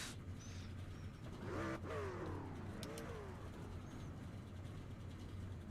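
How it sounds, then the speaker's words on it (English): Truck engines from an iRacing truck race at Daytona rev and rise in pitch, with a couple of sweeping whines building near the middle of the run, over steady engine drone and no talking. "Let me hear your engines."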